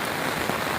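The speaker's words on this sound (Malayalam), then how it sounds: "ഭയങ്കര മഴയാണ്" Heavy, wind-driven rain pours during a cold fishing outing, making a dense, unbroken hiss of drops close to the microphone, with no voices.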